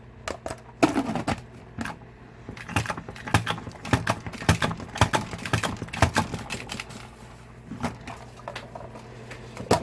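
A salad spinner whirls washed blueberries, giving off an irregular run of rattling, clattering knocks at close range with no talking.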